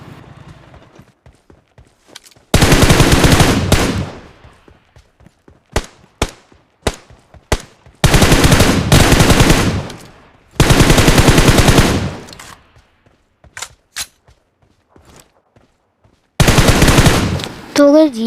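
Bursts of automatic gunfire in the mobile battle royale game BGMI, several loud sustained volleys separated by short single shots and quiet gaps, close and sharp, with no voices over them.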